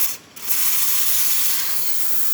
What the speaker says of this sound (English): we'll test the steam first